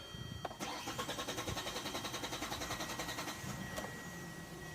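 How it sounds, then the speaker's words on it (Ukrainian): A car engine cranks with a fast, even chugging of the starter, then fires and catches with a short rise in the engine note, heard close up with no talk. "Машинка запускається."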